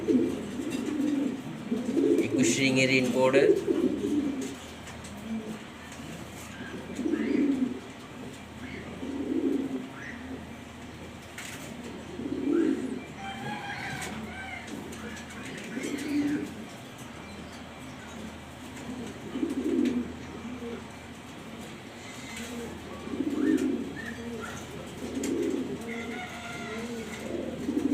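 Black Danish pigeons coo in repeated low, throaty bursts roughly every few seconds, close and steady, while someone talks over them at times.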